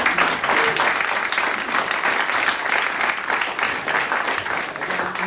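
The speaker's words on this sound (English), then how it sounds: "Let's give Brett a quick round of applause." A meetup audience gives a speaker a quick round of applause, a dense, even crackle of clapping that holds steady from start to finish.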